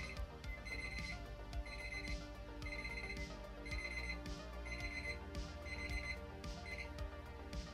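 A kitchen timer alarm goes off during cooking of smothered pork chops, its bright electronic beeps repeating in a regular pulsing pattern about once per second, steady and fairly close, with no talk over it.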